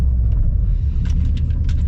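A Subaru STI Baja with a manual transmission pulls away from a stop, its engine giving a steady, close, low rumble with faint higher road noise on top and no talking.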